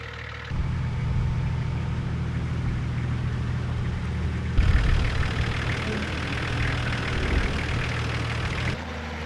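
A Nissan Safari engine runs after a driveshaft repair, a steady low idling rumble that starts after a brief pause and continues near and fairly loud, with a slight surge partway through before cutting out.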